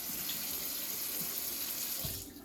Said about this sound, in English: Cold water, and we're just gonna rinse them